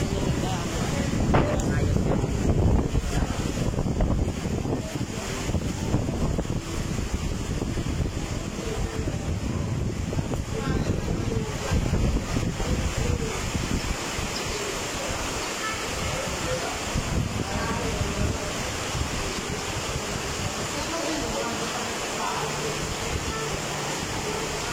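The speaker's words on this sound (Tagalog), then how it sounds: "Grabe ang hangin" Strong wind roars across the microphone at a seaside wet fish market while waves churn and crash nearby, a continuous loud rushing wash with no break throughout.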